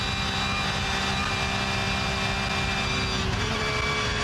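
A race car engine held flat out at full throttle through Kesselchen and Klostertal at the Nürburgring 24h qualifying gives a steady, loud, unbroken roar that sits close and continuous throughout.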